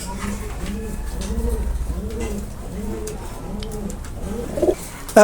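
Pigeon cooing in a steady, repeated rhythm of soft low coos, close and fairly loud, with a brief bump of handling noise near the end.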